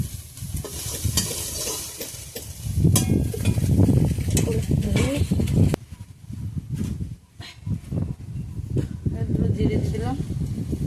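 Fish pieces frying in oil in a pan for a Bengali recipe, sizzling and crackling steadily with occasional stirring and utensil clatter, while someone talks over it throughout.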